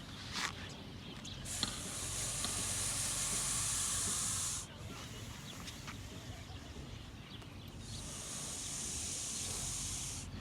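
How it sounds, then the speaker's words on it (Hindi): A Russell's viper hisses by forcing breath out through its nose, two long, loud, breathy bursts separated by a short pause, heard close with faint background noise. "ये जो आवाज़ निकाल रहा है वो यही सांप निकाल रहा है।"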